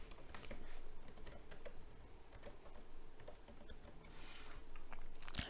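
Fingers type on a computer keyboard filling in a website registration form: quick, irregular clicking keystrokes, close and moderately quiet, with no talking.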